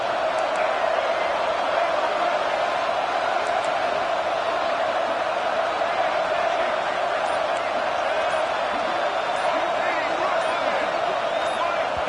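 A football stadium crowd roars steadily through overtime, a dense, loud, unbroken wash of noise with no pauses.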